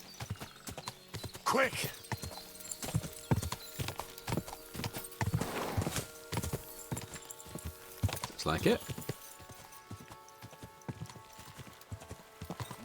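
In Kingdom Come Deliverance 2, set in medieval Bohemia, a horse's hooves clip-clop in a steady walking rhythm, broken by a couple of whinnies, while characters speak briefly over it.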